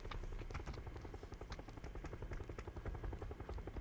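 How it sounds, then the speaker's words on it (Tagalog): A helicopter in a video game flies overhead with a steady, fast, pulsing rotor chop throughout, moderately faint and continuous. "Uy, may helicopter."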